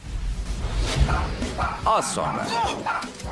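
A dog barks and yelps sharply while biting a man, with growling bursts and a whining cry amid scuffling whooshes, and someone speaks over the commotion.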